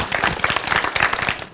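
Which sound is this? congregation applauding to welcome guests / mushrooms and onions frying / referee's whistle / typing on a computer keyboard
congregation applauding to welcome guests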